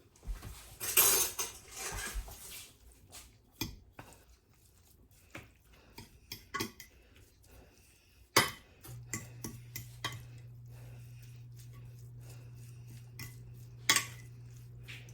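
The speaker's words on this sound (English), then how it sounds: "And we're going to mix this all up." Crab stuffing for stuffed flounder being mixed in a bowl, with a scattered run of sharp spoon-on-dish clinks and scrapes, some louder knocks, and a steady low hum underneath, close and without talk.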